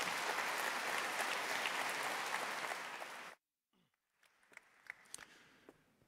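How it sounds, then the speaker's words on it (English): An audience at an ICML 2018 invited talk applauds to welcome Max Welling, a dense wash of clapping for about three seconds that stops abruptly, followed by quiet room noise and faint shuffling. "let's give him an applause"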